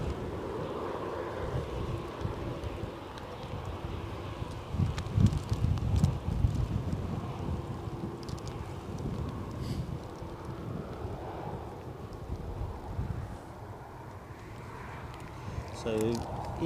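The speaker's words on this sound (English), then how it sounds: "wind is up" Strong wind blows at Edinburgh Airport, a steady low rumbling roar with buffeting gusts against the microphone throughout, swelling and easing without pause.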